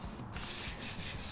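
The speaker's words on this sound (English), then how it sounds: "I would recommend palm sanding the big spots down, get them relatively flat" Sandpaper is rubbed by hand across a custom wooden bar top, a close, steady scratchy rasp with rhythmic strokes and no talking.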